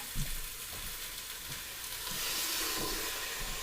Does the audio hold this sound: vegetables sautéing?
yes